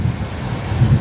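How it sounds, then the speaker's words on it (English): Heavy rain pours down outside a doorway during the first heavy rain of the season, a steady, dense hiss with a low rumbling wash that stays constant throughout. "The rain started at 3:30"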